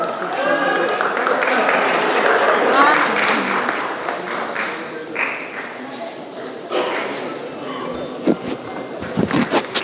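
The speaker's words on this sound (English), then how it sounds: "kindly give a big round of applause as we officially flag off this event" Audience applause at the opening of a weightlifting event at university games, a dense wash of clapping sustained for about ten seconds, fairly loud and steady with a few sharper claps toward the end, mixed with crowd noise.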